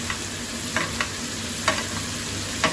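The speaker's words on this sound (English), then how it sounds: "Keep basting that meat." Fillet steak basting in a pan of butter sizzles in a loud, continuous hiss, with a few soft spoon scrapes and splashes breaking through at irregular moments.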